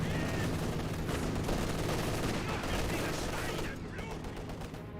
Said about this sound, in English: got a strafing run being put by the US player here